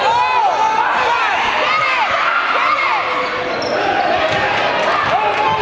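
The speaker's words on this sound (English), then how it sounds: "Crowd is really getting into this." A crowd cheers at a high school boys basketball championship game in a gym, with a ball bouncing repeatedly nearby and a commentator's voice over the noise.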